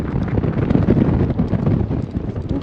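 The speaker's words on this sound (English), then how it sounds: "it's funneling heaps of wind. And the wind's flicking me around" Strong wind buffets the microphone high on a mountain crest, a steady loud low roar with gusty surges throughout and no one talking.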